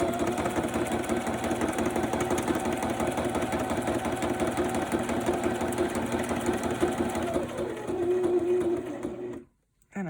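A sewing machine runs a straight stitch through fabric to hold an acetate window on a Christmas pocket, giving a steady, close, continuous mechanical whir for about nine seconds before it briefly stops.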